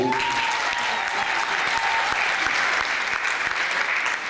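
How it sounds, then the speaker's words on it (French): An audience at a brand launch event in Douala applauds loudly and continuously, a dense steady wash of clapping that fills the whole stretch, with faint voices mixed in. "il faut applaudir très fort pour la jeunesse camerounaise, s'il vous plaît"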